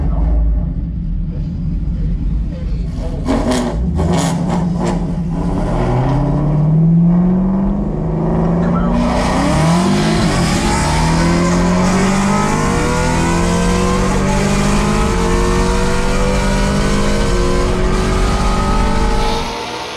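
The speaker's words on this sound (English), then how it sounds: "All right, I'm road racing Pat." Shelby GT350 in a roll race, its engine revving hard as it accelerates, with rising engine tones that climb, shift and climb again. Loud and close, a second car's roar joins partway through, and both sustain at full power to the end.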